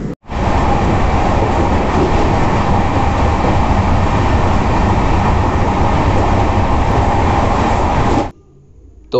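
A passenger express train runs loud and close on its rails near Kanpur, a dense continuous rumble and roar with rattling from the carriages that holds steady for about eight seconds and then cuts off abruptly.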